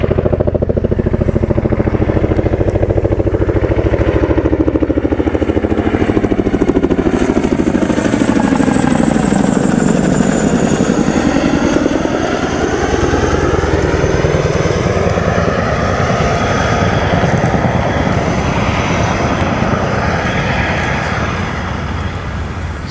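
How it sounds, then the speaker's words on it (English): A Chinook helicopter passes overhead, its loud rotor and engine roar swelling as it approaches, shifting in pitch as it crosses, then slowly receding. "And here comes a Chinook."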